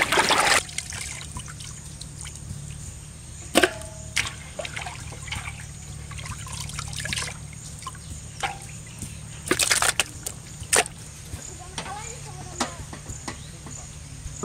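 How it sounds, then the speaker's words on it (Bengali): Pieces of magur fish being rinsed in water in a village kitchen, with splashing, trickling and dribbling water and occasional sharp clatters over a steady low hum. "তা মাছটাকে আমি সুন্দর করে ধুয়ে নিই।"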